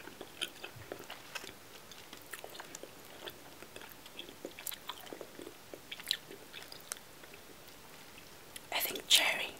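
Swedish Fish gummy candy chewed close to the mic for ASMR, with soft, wet bites and mastication sounds under faint whispering, ending in a louder burst of chewing.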